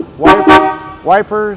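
Horn of a 1955 Chevrolet Bel Air gives two short, loud honks close by, followed by a voice talking.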